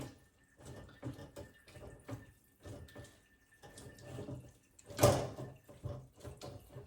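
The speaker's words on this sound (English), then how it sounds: "So I'm going to drain the juice." Juice drained from a vegetable filling for pan-fried veggie buns through a strainer gives faint, intermittent trickling and splashing, with soft handling knocks and one louder clatter midway.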